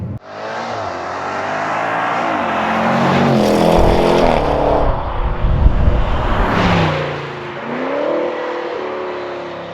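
A 575 hp Range Rover Sport SVR accelerates hard at full throttle, its loud engine roar climbing through the revs with shifts in between, close and steady for several seconds and free of talk.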